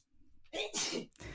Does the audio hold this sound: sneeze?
yes